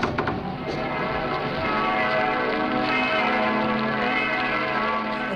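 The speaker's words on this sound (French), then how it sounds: "cet appel au curé de Paris, qui va vraiment être suivi de cloches qui vont tatinabuler jusqu'au ponton de Notre-Dame" Church bells peal across Paris toward Notre-Dame in an archival broadcast recording, a dense, continuous wash of overlapping rings that swells and holds steady, heard from a distance with no voices.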